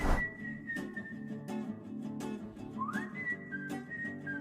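Someone whistles a melody, clear sustained tones with slides between notes, heard over a background of rhythmic music with regular beats.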